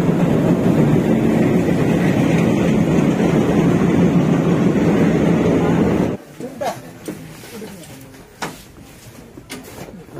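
Train at Silapathar railway station, a loud steady rumbling roar that cuts off abruptly after about six seconds, leaving quieter station ambience with scattered clicks and knocks.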